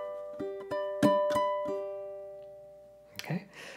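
A single measure of ukulele melody, a handful of plucked notes ringing close and clear, the last one decaying before a brief handling noise.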